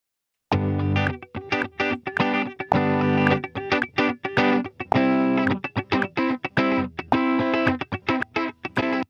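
Distorted electric guitar through a Helix Native effects plugin with dry signal blended in, playing a choppy, rhythmic riff with crunchy, saturated tone, repeated chords and short gaps between strums.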